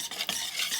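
Brownie batter with salt being stirred in a bowl, a brief close scraping swish of the spoon lasting under a second.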